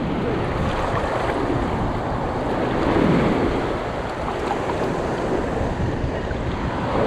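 Ocean waves breaking on a beach near a lifeguard station, a steady loud wash of surf with wind rumbling against the microphone and a swell building around the middle.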